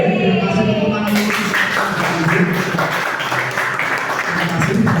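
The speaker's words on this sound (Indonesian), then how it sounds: "Terima kasih tepuk tangan dulu." Audience applause at a morning teachers' sharing forum, sustained steady clapping from a crowd that starts abruptly and fills the room, with a voice audible faintly underneath.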